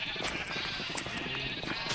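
Sheep bleating in the Minecraft video game, a dense run of overlapping short bleats over a steady game-sound background, close and fairly loud throughout.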